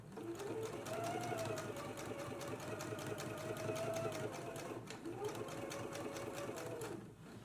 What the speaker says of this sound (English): Let's go ahead and stitch really close to the pressed edge now.